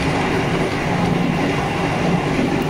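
Steady rumble of the Argo Bromo Anggrek passenger train in motion, heard from inside as a continuous, dense roar of wheels and rails with no breaks.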